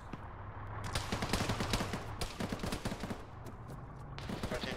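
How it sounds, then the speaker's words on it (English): Rapid gunfire in the military game Arma: dense, crackling automatic bursts and scattered single shots layered together, loud and continuous for several seconds with no voices. "Guy shot at me"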